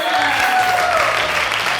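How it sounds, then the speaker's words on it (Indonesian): Audience applause at the Grand Launching of Rikandel: loud, continuous crowd clapping. A sustained tone and a low rhythmic pulse of background music run beneath it. "berikan tepuk tangan untuk Grand Launching Rikandel"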